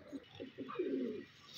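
Pigeons coo softly at close range, a few short throaty notes followed by one longer rolling coo, fairly faint in a quiet setting.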